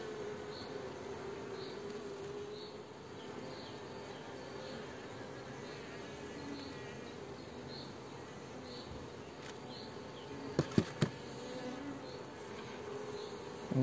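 Virgin queen honeybee flying and circling around a small nucleus hive at a queen-rearing apiary, giving a faint steady buzzing hum outdoors with a few soft knocks near the end and no talking.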